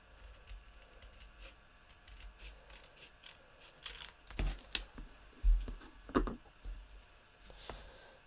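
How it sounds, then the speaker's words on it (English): Scissors cutting card for handmade Christmas cards, a handful of crisp snips and paper rustles close by, quiet at first, then several clearer cuts in the second half. "I tend to do it just with scissors"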